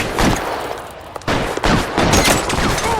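Rapid bursts of gunfire from a shootout in the video game LA Noire, loud and close, with dense overlapping shots in two clusters split by a brief lull and no talking.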